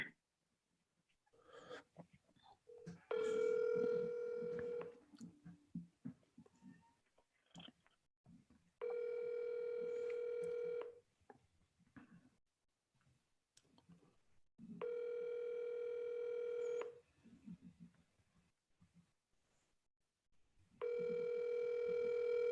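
Telephone ringback tone on an outgoing cold call repeats four times in steady, evenly spaced bursts of about two seconds each. Faint handling noise and background clicks fill the gaps between rings.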